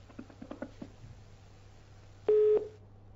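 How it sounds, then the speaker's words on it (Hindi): A steady electronic telephone tone sounds briefly after a call on a Haryana phone-in talk show line disconnects, a loud flat beep that cuts off abruptly. Faint earlier patter precedes it. "फोन डिस्कनेक्ट हो गया"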